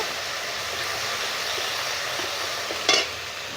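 Ground spice paste for doi tangra sautés in a pan with a steady, moderately loud sizzle, broken near the end by one brief sharp scrape of stirring.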